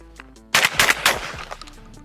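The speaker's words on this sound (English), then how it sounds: "I'm just gonna quickly hand throw 3 clays, get some good shooting vibes out of each of these guns." A shotgun fires at hand-thrown clay targets outdoors, three sharp blasts in quick succession, each followed by a short decaying echo. No voices.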